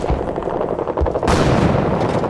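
Rapid gunfire from the retro action game The Eternal Castle, a quick burst of sharp shots followed by heavier sustained firing, loud and close, no voices.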